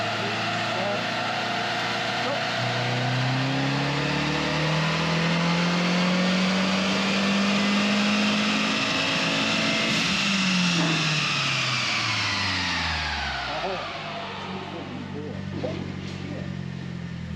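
A cheap car's engine on a dynamometer during a power run screams at high revs, its pitch rising steadily through the gears and then falling away as it winds down, loud and sustained.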